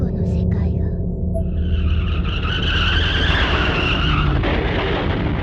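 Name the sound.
car skidding and crashing, video game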